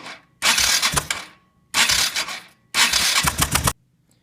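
An engine's starter cranks during a spark plug test in three separate whirring, grinding bursts, each about a second long with short gaps between them, close and loud.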